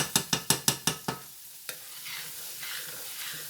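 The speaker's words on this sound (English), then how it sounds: "Go ahead and move my onions around a little bit here" Onions sizzling in a pan as a spoon stirs them, opening with a quick run of about six sharp taps against the pan, then one more knock and a steady close hiss of frying.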